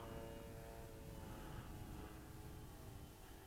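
A Hangar 9 PA18 Super Cub radio-controlled model airplane in flight, its small engine and propeller giving a continuous buzzing drone at moderate distance, steady with a slight fade at the end.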